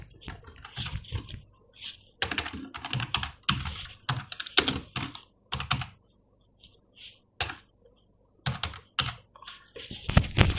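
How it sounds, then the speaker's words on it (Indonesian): Fingers type on a computer keyboard while entering data into a Microsoft Excel spreadsheet, with close, crisp keystrokes that come in quick bursts and short pauses between them. "kita ketik saja jumlah total."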